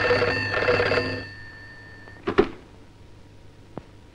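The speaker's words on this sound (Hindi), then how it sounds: "देखो तो किसका फोन है।" An old-fashioned telephone bell rings in a 1958 Hindi film scene, a loud ringing burst followed by quieter clicks and knocks, with no one speaking.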